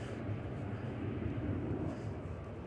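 An EasyJet airliner at Edinburgh airport gives a steady, broad low engine roar that holds evenly throughout, with a rushing wash over the top and no voices.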